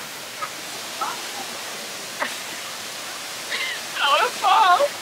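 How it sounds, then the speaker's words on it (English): Steady roaring rush of Rutledge Falls fills the whole clip, loud and constant, with a voice speaking over it near the end. "The water's so loud."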